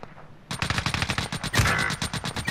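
A nail gun in the multiplayer shooter Call of Duty: Modern Warfare fires a sudden, rapid automatic burst of sharp, loud shots after a brief quiet start, continuing in fast repeated bursts to the end.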